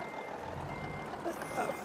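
A Freightliner Argosy truck in Euro Truck Simulator 2 backs a trailer, its reversing alarm sounding short, high electronic beeps over a low, steady engine hum, fairly close.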